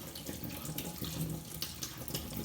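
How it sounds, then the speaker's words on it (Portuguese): Boiled peanuts rinsed in a sieve under a running kitchen tap: a steady, close splashing stream of water pouring and draining, with no talking. "Eu vou escorrer ele aqui nessa peneira. E vou lavar aqui um pouquinho."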